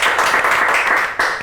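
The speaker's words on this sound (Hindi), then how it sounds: "तालियां बजाइए तनिष के लिए।" Audience applause for a guest named Tanish on a Hindi TV show stage, a dense, steady wash of clapping filling the whole moment, loud and close, with a brief dip near the end.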